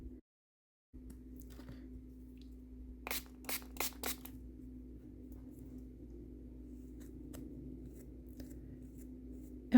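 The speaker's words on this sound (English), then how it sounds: "the only thing really that I have left to do is trim some of the ends a little bit" Scissors snip the ends of a doll's hair in a quick cluster of four or five close, crisp cuts, set against a steady low hum in an otherwise quiet room.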